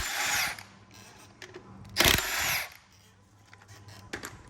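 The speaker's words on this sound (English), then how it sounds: "It's always good to use this big ass gun, so you have to use a wrench to loosen it first." An impact gun works loose bolts on an engine being stripped down, giving a couple of short, sharp rattling bursts, the loudest about midway, between quieter clinks and handling noises.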